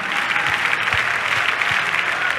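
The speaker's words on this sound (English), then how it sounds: "Clap your hands 5 times." Worshippers at a church service clap their hands in a thick, steady round of applause, close and loud, running without a break.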